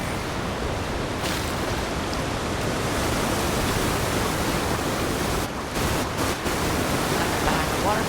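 Steady broadband rush of a waterfall in the video game Avowed, a continuous wash of falling water filling the scene with only brief dips, no voices over it.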